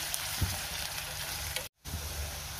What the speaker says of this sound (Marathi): त्यात आपल्याला बारीक चिरलेला कांदा घालायचा आहे आणि कांदा चांगला गोल्डन ब्राऊन रंगावर येईपर्यंत आपल्याला परतून घ्यायचा आहे